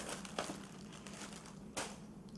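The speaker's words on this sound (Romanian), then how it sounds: "Am niște hârtie și vreau să o dau la o parte ca să nu fâșâi." Paper rustles and crinkles as it is moved aside, soft and close, with two brief sharper crackles among quiet shuffling.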